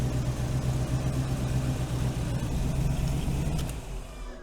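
A TVR V8 engine revs loudly and steadily up close, a deep continuous roar that holds for about four seconds, then eases and fades slightly at the end.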